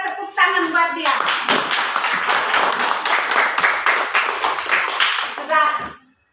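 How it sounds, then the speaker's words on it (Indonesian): A school class claps along for a classmate, a steady run of many hands clapping close by for several seconds, with children's voices briefly before and after. "Mari kita tepuk tangan buat dia."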